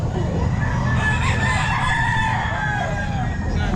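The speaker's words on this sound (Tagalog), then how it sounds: "ligo pa lahat ng mga manok ni Boss Joey." Chickens, including Thompson White birds, cluck and a rooster crows amid a dense, constant barnyard din at a pet market that runs the whole time.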